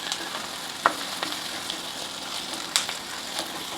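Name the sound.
curry leaves frying in hot oil with onions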